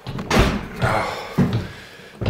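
Heavy door swinging shut with a solid thud, early morning at a spa hotel; two or three dull impacts with some faint background murmur, close by.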